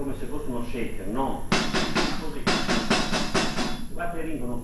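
A drumstick shaken like a shaker during a drumming lesson-concert, giving a run of bright, dense rattling bursts in a steady rhythm, loud and close, with someone talking before and after.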